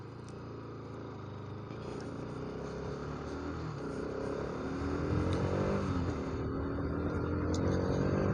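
Bajaj Pulsar RS200 motorcycle engine on a ride near a dam, a low steady drone that gradually rises in pitch and loudness as the bike gains speed, with wind noise mixed in.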